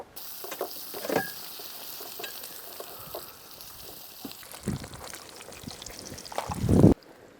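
Oil spitting and sizzling in a sooty pan at a campsite, a fairly quiet hiss broken by scattered pops and clinks, with a louder clatter near the end before it cuts off.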